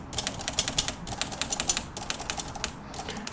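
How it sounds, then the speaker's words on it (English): Keys of a 1943 Royal Quiet De Luxe typewriter being oiled are worked in fast, close runs of crisp clacks, dense bursts broken by brief gaps, with no voice. "Luckily this one, the keys are moving really well."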